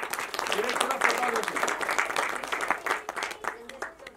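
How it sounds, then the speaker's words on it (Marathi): An audience at a Marathi film trailer launch claps together in a steady, dense burst of applause lasting several seconds, with a voice faintly underneath. "सो संजयसाठी एकदा टाळ्या वाजवूया"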